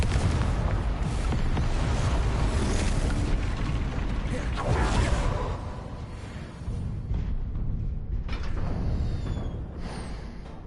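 Spell blasts from Confringo and Incendio cast in a Hogwarts video game, a dense, continuous roar of booming explosions and fiery bursts that stays loud throughout, thinning slightly near the end.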